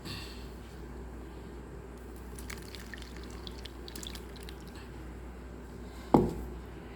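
Ground mint juice for pani puri is strained, a soft, steady trickle and squish of liquid through a strainer, closing with a brief louder splash.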